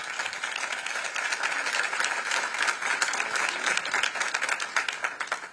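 Audience at a mayoral debate in Oakland breaks into steady, dense applause, a room full of clapping hands sustained for several seconds before tapering off.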